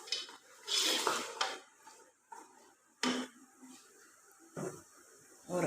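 Paya being fried and stirred in masala in a pot: scattered scraping strokes and metallic knocks of a spoon against the pot in irregular bursts, with a soft sizzle between them, close and moderately loud.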